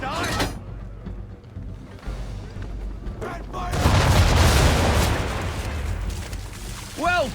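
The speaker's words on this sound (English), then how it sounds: "Bring her round broadside, and when all guns are on target, call fire." Broadside cannons of a sailing warship in Assassin's Creed III boom together in a long rolling barrage, a loud sustained roar swelling in the middle and trailing off, with a voice calling orders early on.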